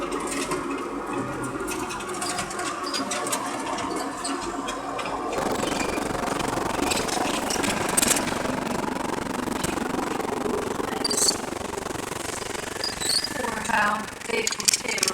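Military vehicles in a convoy on an old airfield run with a rough, steady engine drone and clattering mechanical rattle throughout, close and continuous, swelling slightly midway.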